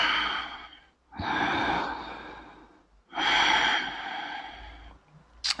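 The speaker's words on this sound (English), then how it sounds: "Take 2 more deep breaths, side angle pose" Two long, deep breaths drawn slowly in and out while holding a yoga side angle pose, each swelling and fading over a couple of seconds, close and clear with a short pause between them.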